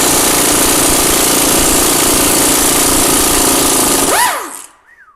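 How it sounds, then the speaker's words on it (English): A small Mac Tools impact wrench hammers away at bolts on a GM 246 transfer case. It is one steady, loud, rattling burst lasting about four seconds, then it cuts off abruptly into near silence with a brief squeak at the end. "these little Mac tools impacts are really stout"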